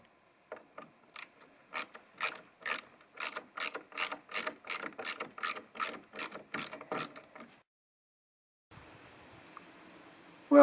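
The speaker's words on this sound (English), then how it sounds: "now I'm just anchoring it down into the sidewalls with these big Torx head screws" A cordless driver sinks big Torx head screws into the sidewalls of an old off-grid log cabin. It gives a fast train of sharp ratcheting clicks for several seconds, stops, and then a short burst of rougher whirring follows.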